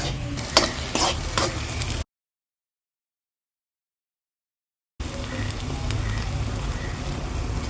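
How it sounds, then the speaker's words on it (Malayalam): Thick coconut milk poured over cooked onions in a pan for ulli lehyam, an onion preparation, sizzles steadily while being stirred. The bubbling hiss is close and even, drops out completely for a few seconds, then resumes. "ഇനി ഇതിൽ നിന്നും കിട്ടുന്ന ആ ഒരു കട്ടി തേങ്ങാപ്പാൽ ആ ഉള്ളിയിലേക്ക് നമുക്ക് ഒഴിച്ചു കൊടുക്കാം"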